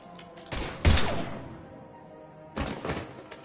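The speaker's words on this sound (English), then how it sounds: "Now open fire!" Gunfire in the shooter game Mass Effect 3: a sharp burst near one second, then a quieter stretch, and a second cluster of shots later, mid-loud and with no talk over it.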